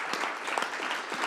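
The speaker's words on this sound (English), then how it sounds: "I like to clap for that" Applause, a short burst of clapping by a small group, a dense patter of hand claps at moderate level.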